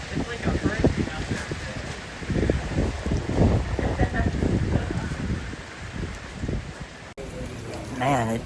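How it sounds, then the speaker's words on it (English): Strong wind buffets the microphone in heavy, rumbling gusts, roaring continuously up close, with a voice speaking briefly at the end. "Man, it suddenly got super cold and windy."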